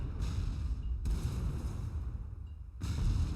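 Mortar fire thuds through a video game battle between vehicles, several deep booming bursts separated by pauses, fairly faint and distant with no talk over them.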